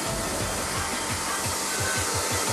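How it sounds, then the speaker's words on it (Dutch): A hair dryer blows steadily and loudly during a home blow-dry brushing, its airflow roar continuous with a faint rhythmic pulsing underneath. "Zal ik de haardroger vasthouden?"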